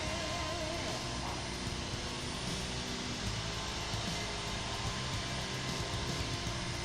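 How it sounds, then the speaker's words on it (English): A router fitted with a bearing-guided cutter trims the edge of wood along a template for a neck-through guitar, giving a steady, dense high-speed whirring roar that holds unbroken and close throughout. "it's a bearing cutter that's running along the edge of the template that I've made"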